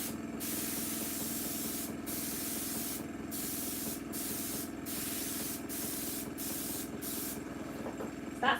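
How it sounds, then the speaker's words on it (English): Repeated bursts of a spray bottle used on alcohol ink artwork, about eight short hissing sprays at a steady pace over a constant low hum. "That's with a solid spray."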